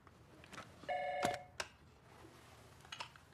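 Telephone sounds from a dubbed film's speakerphone call: a short electronic ring-like tone with steady harmonic pitches, followed by a few faint clicks and soft background noise, with no talking.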